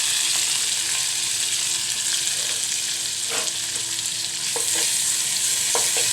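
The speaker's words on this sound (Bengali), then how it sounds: "মাছগুলো একটু ভেজে নেব।" Fish frying with onions in a pan, a steady broadband sizzle under a few scrapes and taps of stirring, close and fairly loud throughout.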